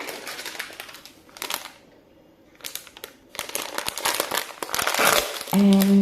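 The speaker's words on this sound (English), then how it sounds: "that crinkling you can hear is me opening a packet of these" A snack packet is crinkled and torn open in irregular bursts of crisp rustling, close by, with quiet pauses between the handling noises.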